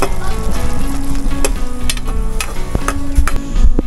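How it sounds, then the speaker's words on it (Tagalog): Water spinach (kangkong) stir-fried with a splash of vinegar sizzles loudly and steadily in a hot pan, close up, with repeated sharp clinks of a utensil striking the pan and no talk. "Stir fry na kangkong."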